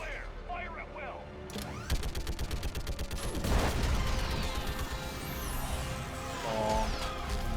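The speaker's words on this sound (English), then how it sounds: "I need an orbital strike. Clear. Fire at will." Orbital strike barrage hammering a live Reaper in Mass Effect 3: a dense run of rapid gunfire bursts and heavy impacts, loud and close, swelling midway with a big crash, while a voice talks over the din.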